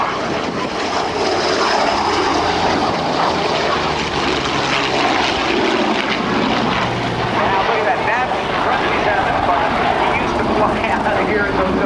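A loud propeller-driven Yak-9 warbird and a jet at a 2012 NAS Oceana airshow drone steadily nearby, engine roar filling the scene while a commentator talks over it.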